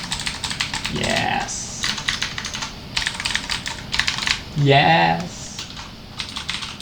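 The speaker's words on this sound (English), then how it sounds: "Let's feel the Cherry MX Blue switches." Clicky Cherry MX Blue mechanical switches on an ASUS Gundam keyboard are tapped in quick, close bursts of sharp clicks, with someone briefly speaking twice between the typing.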